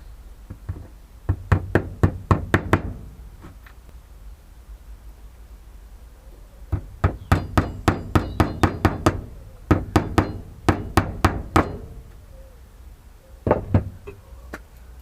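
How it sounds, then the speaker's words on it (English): Nails hammered into a wooden block in three bursts of sharp, rapid strikes, each burst of several close, loud knocks, with quieter pauses between them. "So we'll put a few nails in."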